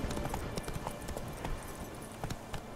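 Horse hooves clip-clop steadily in The Witcher 3, a repeated rhythmic clatter of several footfalls over constant game background sound.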